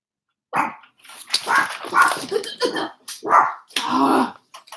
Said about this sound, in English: Max, don't start barking.